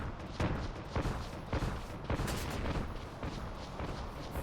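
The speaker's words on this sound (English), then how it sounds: "And they hit the explosion trap." Explosion trap detonating in the video game Final Fantasy XII, a string of heavy booming blasts repeating roughly every half second, loud and close, with no talk over them.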